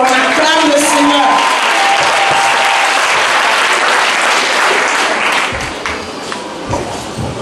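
A church congregation applauds loudly at a Sunday service, dense sustained clapping filling the room with voices mixed in, tapering off somewhat toward the end.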